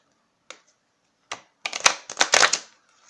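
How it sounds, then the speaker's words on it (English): Oracle cards riffle and slap in a few quick bursts during shuffling after isolated taps, close by and fairly crisp. "So let me just give it another quick shuffle here."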